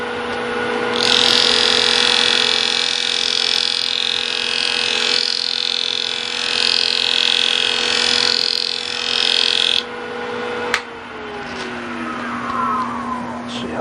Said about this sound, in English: And I'm going to turn the lathe speed up even higher.